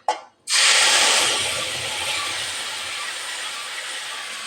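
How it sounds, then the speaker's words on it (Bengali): Chili and ginger paste hitting hot oil in a frying pan, a sudden loud hissing sizzle after a short gap that stays strong and steady, easing slightly as it settles. "এখন দিয়ে দিব লঙ্কা ও আদা বাটা।"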